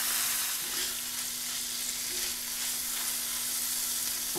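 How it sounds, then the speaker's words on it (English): Peppers and onions sizzle in a pan being readied for a fried bologna sandwich, a loud continuous hiss with a few faint clinks, close and steady throughout with no voices. "I'm going to add some of these peppers and onions"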